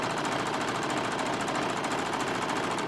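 A sewing machine stitches steadily at close range, a fast, continuous mechanical chatter running unbroken from start to finish.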